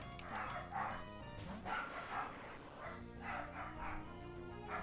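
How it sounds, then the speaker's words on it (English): Several dogs bark and yip in repeated bursts at a moderate distance, with a few whimpers between volleys and faint background sound under them. "there's my dogs going off right now"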